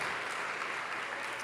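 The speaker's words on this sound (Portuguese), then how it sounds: "Então pode aplaudir ao Senhor." A church congregation applauds for the Lord, a dense and continuous wash of many hands clapping together, loud and steady throughout.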